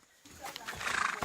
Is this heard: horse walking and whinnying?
yes